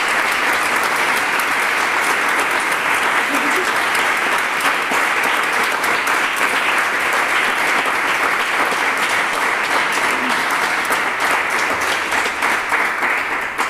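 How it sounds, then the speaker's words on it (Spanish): A concert audience bursts into loud, continuous applause, a thick unbroken wash of clapping that holds at full strength throughout. "Así que, por favor, un fuerte aplauso."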